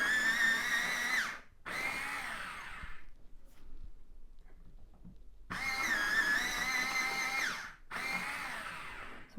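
Electric sharpener grinding Pablo coloured pencils, white and granite rose, in four close whirring bursts with a quiet gap in the middle.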